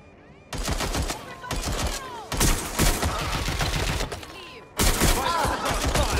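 Bursts of rapid gunfire crackle in loud volleys in the video game Watch Dogs: Legion, with short pauses between them and the sounds of a busy game scene.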